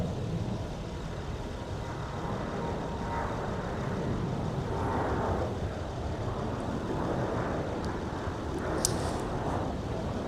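A United Airlines jet taking off from runway 30 left at Minneapolis airport in winter, a broad steady engine roar that swells and holds throughout, heard from a distance with no voices.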